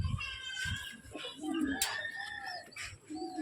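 Rampuri pigeons handled in a breeder's loft give soft coos and bird calls, with light rustling and human voices talking over them throughout.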